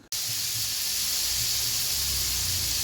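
Chopped capsicum, carrot and potato for chow chow hiss steadily in a pan, a soft, even steamy sizzle that starts abruptly and holds at low volume with no voices.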